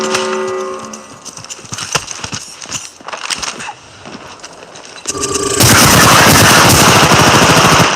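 Rapid automatic gunfire bursts and shots from an Apex Legends match, dense and loud, intensifying into a continuous roar of fire and impacts toward the end.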